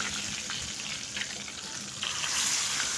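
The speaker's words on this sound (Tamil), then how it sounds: "கொஞ்சம் கடுகு போட்டுக்கோங்க இதனால் கொஞ்சம் பொரியட்டும்" Mustard seeds and curry leaves fry in hot oil for a ridge gourd peel chutney, giving a steady close crackle and sizzle throughout with no talking.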